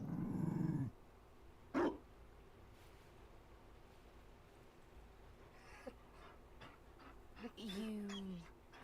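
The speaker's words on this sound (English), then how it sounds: "You found a dog." Low growl from a Mabari war dog in Dragon Age: Inquisition, heard in a short burst at the start and again near the end, with a brief sharp sound between them over quiet game ambience.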